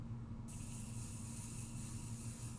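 A faint hiss of pixie spray is released from a can partway through, rising over a low, steady background hum.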